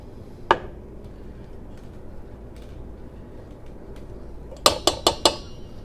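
A spoon clinks against a bowl while plain Greek yogurt goes into a creamy avocado dip: one sharp tap early, then a quick burst of four bright clinks near the end over quiet kitchen background.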